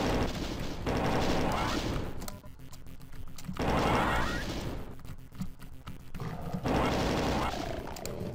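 Rapid, loud weapon fire in Ultimate Doom as imps are shot in episode three's Pandemonium level, sustained bursts of repeated shots with short gaps between volleys, alone without talk.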